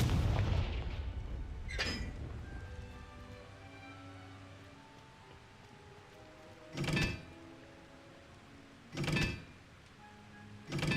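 Confringo fire spell blasts in the video game Hogwarts Legacy: an opening rumbling explosion fades out, then three sharp booming bursts come at spaced intervals over a quiet game ambience.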